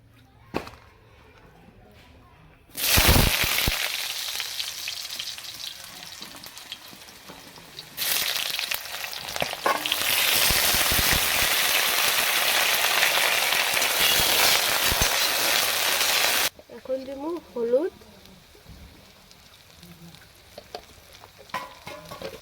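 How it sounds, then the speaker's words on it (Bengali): Potatoes frying in hot oil, a loud, dense sizzle that bursts in, drops briefly, then roars steadily for several seconds before cutting to quieter background with faint voices. "ঠিক একই প্রসেসে আমরা আলুগুলো ভাজা নেবো"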